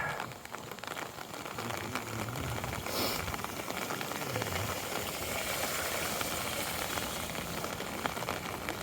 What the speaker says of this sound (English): it's raining quite a little bit now